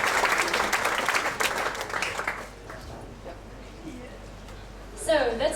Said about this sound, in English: Please give a big applause to Soraya Petzoldt.